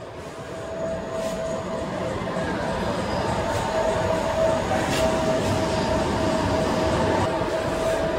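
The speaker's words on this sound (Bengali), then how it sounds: "ট্রেন যাচ্ছে যশোর রোড স্টেশন" A train runs on an elevated line past a full curve toward Jessore Road station, a steady rolling rumble with faint wheel squeal and occasional clicks from the track.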